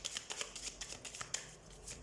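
Tarot cards shuffled by hand in a rapid run of crisp riffling bursts, close and fairly quiet, with no voices over them.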